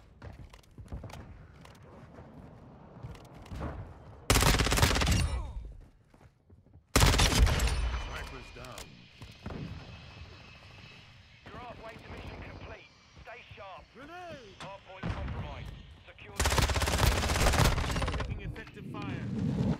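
Bursts of 9mm gunfire in the shooter game Modern Warfare 2, loud rapid volleys around seconds four, seven and sixteen with quieter game noise and speech in between.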